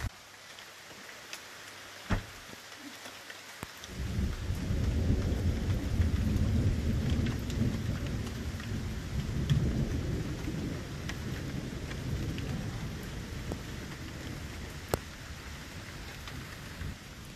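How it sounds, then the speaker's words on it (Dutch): A thunderstorm with rain near the Grotta del Vento caves in Italy: steady rainfall rises after a few seconds into a broad, loud rumble of thunder, then settles into continuous rain on surfaces with occasional sharp drops. "Lekker onweertje."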